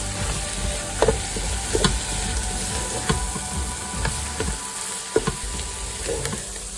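Chicken biryani masala sautés with coriander and mint leaves, giving a loud continuous sizzle with irregular spatula knocks and scrapes against the pan.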